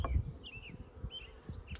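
Honey bees buzz around a beehive set up as a queen-rearing starter, a brief close droning hum with a few higher whining passes.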